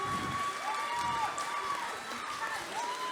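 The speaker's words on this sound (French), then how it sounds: "On peut aussi applaudir l'équipe technique" Audience applause at a cosplay contest in Rouen, steady clapping and light cheering filling the hall for the technical crew, with a voice talking over it and a tone sweeping across.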